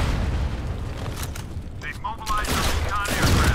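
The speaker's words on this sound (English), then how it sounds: "Just shot me with your shotgun" Shotgun blasts in Modern Combat 5 gameplay, heavy booming shots against a constant din of gunfire, with voices talking over the action.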